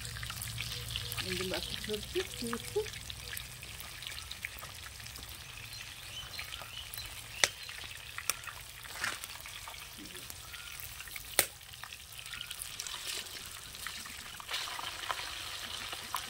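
A whole fish frying in a pan in a Kashmiri village kitchen makes a steady, soft sizzle that runs throughout. A few sharp clicks stand out, and faint voices are heard low in the background.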